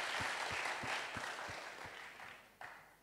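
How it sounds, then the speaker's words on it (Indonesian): Applause from a church congregation, fairly soft and distant, with a steady run of low thumps beneath the clapping that fades gradually. "yang mau tepuk tangan yang meriah buat Tuhan Yesus."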